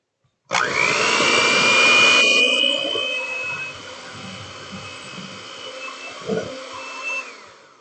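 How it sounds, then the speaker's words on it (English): An electric mixer beats butter and brown sugar, starting abruptly with a loud steady whirring whine that drops slightly in pitch and keeps droning, with a few bumps from the bowl. "I'm not going to make you guys suffer through the sound of this mixer."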